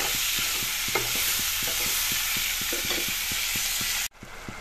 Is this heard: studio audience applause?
no